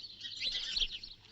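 A caged parrot chirps in a few quick, bright tweets, near and fairly soft, alone without speech.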